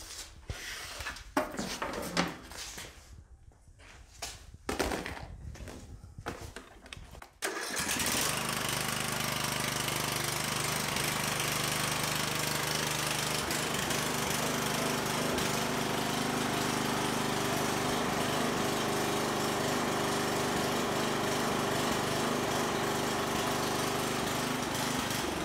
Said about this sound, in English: So we'll start the engine and then check it again.